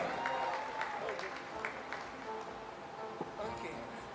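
Audience applause at an awards ceremony, a fairly faint, steady patter of clapping with a little crowd noise under a speaking voice.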